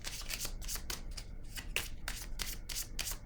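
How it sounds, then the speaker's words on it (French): Playing cards are shuffled and dealt down onto a surface in a quick series of crisp riffling and slapping bursts, close and fairly steady throughout. "Je vais déposer une carte pour cette zone."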